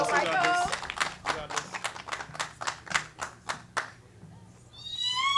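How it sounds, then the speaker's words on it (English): An audience at a cosplay awards ceremony applauds. A burst of clapping sounds near and lively at first, thins into separate claps, and fades to quiet before a brief sound at the end. "Give him a round of applause, everyone."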